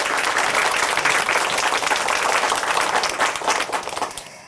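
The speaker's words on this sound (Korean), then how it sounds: "다시 한번 큰 박수 부탁드릴게요." Studio audience applause on a Korean Christian testimony show after a guest's story, a dense, sustained round of clapping that fades out at the end.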